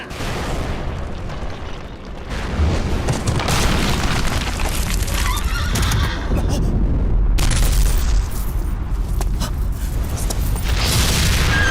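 A stone bridge in Shadow of the Colossus breaking apart, heard as a loud, continuous roaring rumble of crumbling rock with heavy booming bursts that holds at full strength throughout, without any voices.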